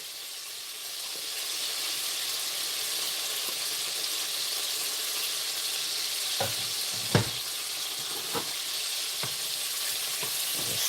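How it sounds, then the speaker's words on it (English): Garlic sizzles steadily in melted butter in a pan, a constant frying hiss with a few soft clicks and taps of stirring near the end. "go ahead and add the garlic."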